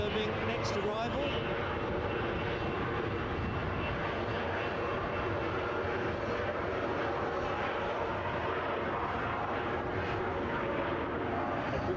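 Loud, sustained aircraft engine roar from a plane taking off at Edinburgh airport bound for Stuttgart, holding strong and close throughout with a voice talking faintly underneath.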